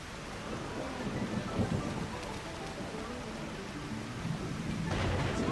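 In the video game Kai no Kiseki, rumbling thunder rolls over a steady hiss of heavy rain, the low boom swelling near the start and again toward the end.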